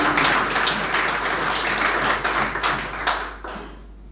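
An indoor audience at a Sadbhavana Diwas 2020 event claps steadily to welcome a speaker, a dense, loud burst of applause that carries on and then thins out toward the end.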